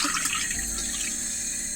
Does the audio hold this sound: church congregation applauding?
no